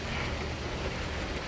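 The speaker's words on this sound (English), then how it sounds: "As the rain is thoroughly making me its bitch." Heavy rain pours down steadily outdoors near a parked car, a dense, even hiss of drops with no breaks or voices.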